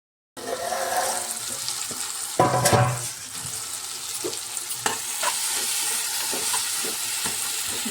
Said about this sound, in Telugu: ఇప్పుడైతే టమాటా కూడా వేసేస్తున్నాం మూట అయితే పెట్టుకుంటాం